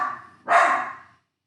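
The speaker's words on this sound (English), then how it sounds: "Dogs." A dog barks twice indoors, a short first bark followed by a louder, longer one, close and sharp with no other sound around it.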